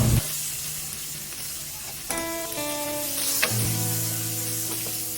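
Garlic and onion sautéing in hot oil for pakbet Ilocano, a steady close sizzle throughout with brief tonal clinks and stirring scrapes partway through.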